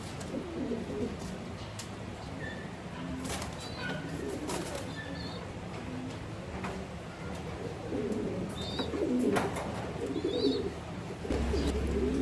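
Old breeder pigeons cooing in a loft, a steady bed of low, soft coos from several birds with occasional wing flutters and faint chirps, continuous and moderately close.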